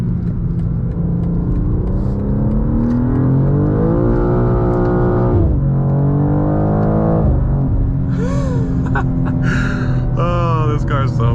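A car drives with its engine revving and rising in pitch through a loud, continuous run, with excited voices and a gasp over the top in a busy street scene.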